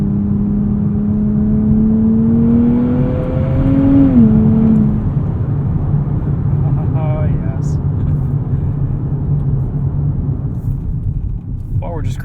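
A 2023 Nissan Z with a 9-speed automatic cruising through city streets, with a steady low engine and road rumble heard from inside the cabin, a brief rising rev in the middle, and faint clicks.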